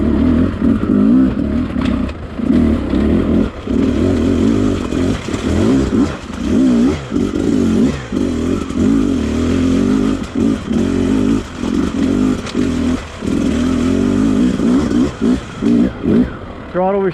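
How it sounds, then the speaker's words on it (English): A 2020 Beta 300RR two-stroke dirt bike revs and crawls over wet, rocky, rooty trail, its engine pulsing in short throttle bursts and steady drones, close and loud throughout. "The beta just crawled up there, no problem."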